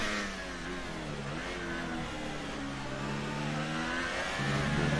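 A Formula 1 car in the F1 2018 racing game revs steadily through the gears at the French Grand Prix, the engine note climbing and dropping in pitch as it works through corners, moderately loud and continuous.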